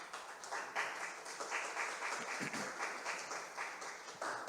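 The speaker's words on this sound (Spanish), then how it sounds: "Le damos un fuerte aplauso para recibirle" An audience claps steadily to welcome a speaker at an academic talk, faint and somewhat distant, with no voices over it.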